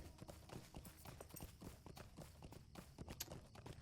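Quick, steady clip-clop of a horse's hooves at a trot in the video game Lord of the Rings Online, faint and rhythmic, continuing without pause.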